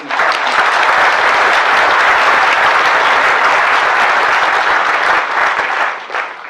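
A seated audience at the Bird Photographer of the Year awards ceremony gives a round of applause, a thick, even wash of clapping that holds steady and then tapers off in the last moments.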